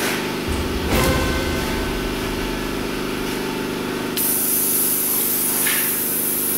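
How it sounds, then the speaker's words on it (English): Brake cleaner sprayed from a can over engine parts of a Subaru EJ25D 2.5 DOHC during a timing belt and water pump job: a continuous close hiss with brief extra bursts. "We'll hose everything off with a little brake cleaner."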